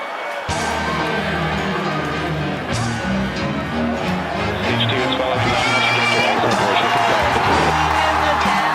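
A large crowd cheers and roars continuously throughout a Falcon Heavy rocket launch broadcast, a dense wall of shouting, whoops and applause that stays loud and steady across the whole stretch.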